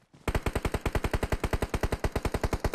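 Automatic gunfire in PUBG Mobile: a loud, close, sustained burst of rapid, evenly spaced shots, about ten per second, running nearly three seconds without a break.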